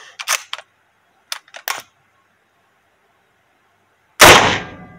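A Mosin 1891 rifle is fired: a few quick mechanical clicks, then a single loud, sharp shot with a rough decaying tail. No one speaks.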